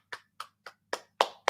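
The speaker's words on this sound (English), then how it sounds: "Let me just clap for that" Bare hands clapping six times at an uneven pace, close and crisp, with the later claps louder and no voices around them.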